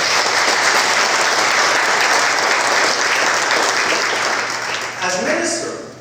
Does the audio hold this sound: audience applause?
yes